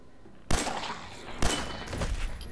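Gunfire in the video game Fallout 4: two sharp, loud shot bursts about a second apart, each followed by a dense rattling tail and lingering noise.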